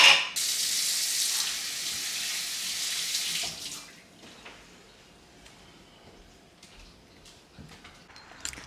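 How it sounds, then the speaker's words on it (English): Running water from a sink tap splashes steadily over hands for about three and a half seconds, then shuts off, leaving quiet room noise with a few small knocks. "Let me wash my hands."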